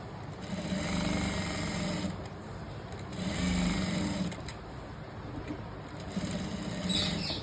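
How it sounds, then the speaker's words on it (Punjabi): A sewing machine stitches a side seam on cloth, running in steady whirring stretches that swell and ease a few times, close and continuous with no talk. "ਇਸ ਤਰੀਕੇ ਨਾਲ ਤੁਸੀਂ ਆਪਣੇ ਕੱਪੜੇ ਨੂੰ ਸੈੱਟ ਕਰਕੇ ਸਾਈਡ ਸਲਾਈ ਲਗਾਣੀ ਹੈ"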